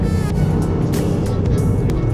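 Toyota GR Yaris engine running on a race track, a loud continuous droning roar heard from close by with no break in the sound.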